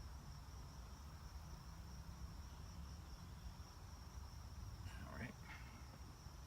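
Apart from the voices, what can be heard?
bugs, crickets chirping outdoors at Valley Forge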